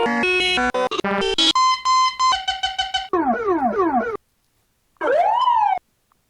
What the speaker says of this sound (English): so we got the right siren set up now